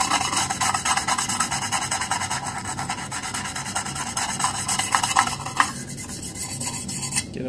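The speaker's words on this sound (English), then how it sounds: "Just scrub them good." GI surplus gun magazines are scrubbed clean of gunk, giving a harsh, continuous scraping and rasping made of quick back-and-forth strokes, close and loud throughout.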